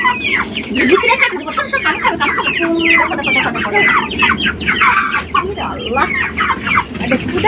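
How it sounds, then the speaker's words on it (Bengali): A group of chickens clucks and squawks busily while eating at close range, a dense, continuous chatter of overlapping calls as people talk nearby. "খাচ্ছে তো মুরগিগুলা খাচ্ছে"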